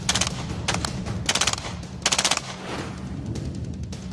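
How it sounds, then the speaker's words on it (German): FN P90 submachine gun firing in bursts, loud rapid crackling volleys of several shots each, repeated with short gaps over a steady background. "Die FNP-90 ist genauso leistungsfähig wie ihre Vorgängerin, die MP5."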